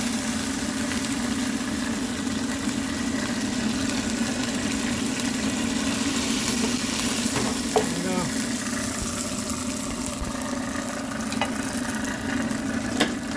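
Rainbow trout fillets, skin side first, sizzle steadily in a hot pan on the stove, a continuous frying hiss with an occasional clink as a piece is turned, set against a low steady hum.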